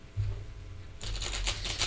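Cards shuffled during a live tarot-style card reading: a soft rustle early on, then from about midway a steady run of crisp riffling flutters, close and fairly loud, with no talk over it.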